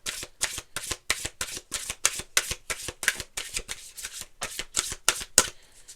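A tarot deck is shuffled by hand in a rapid, even run of crisp riffling bursts, about a dozen close, sharp card flutters spaced evenly and heard alone.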